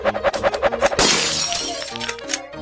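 Clay plates shatter in a Prove Yourself a Gunslinger shooting game, a sharp crashing break that rings out loud, preceded by a quick series of rhythmic clacks and followed by fading scatter.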